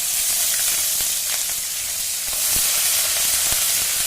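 Ginger and other ingredients sizzle in hot oil in a pan, a steady close hiss of frying with faint crackles and stirring ticks, and no voices.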